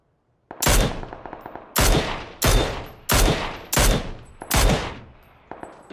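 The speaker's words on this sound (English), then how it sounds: "Where is shooting at me from up there though?" PUBG battle gunfire: six heavy, sharp reports spaced about half a second to a second apart, each ringing out with a short echoing tail, then a fainter seventh shot at the end.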